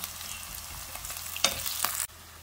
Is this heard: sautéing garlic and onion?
yes